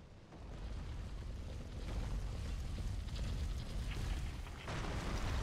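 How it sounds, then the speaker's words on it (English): In Dark Souls 3, a boulder rumbles down and bursts with a heavy, sustained roar and explosive crashing. The sound is loud, low and continuous, with a renewed surge near the end. "So the boulder should come down here and then explode, right?"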